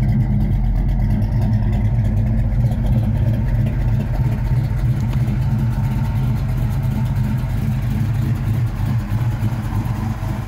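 A car engine runs loud and close, steady and throaty, with the low rumble of light revving, held evenly throughout with no talking.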